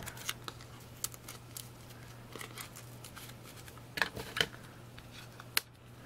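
A few quiet, crisp scissor snips trim the long ends on a handmade flip flop card, spaced irregularly over a low steady hum with no talking.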